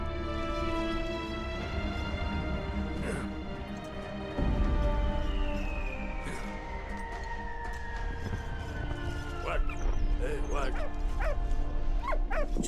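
Dog barking in the World War I video game Valiant Hearts: The Great War, heard among game music, a siren-like wail and ambient effects, with someone talking over it.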